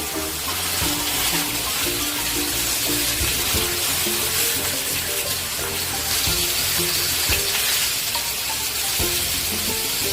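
Chara fish sizzle in a frying pan once the lid comes off, both sides done: a dense, even hiss of frying oil, loud and unbroken, over a faint low hum.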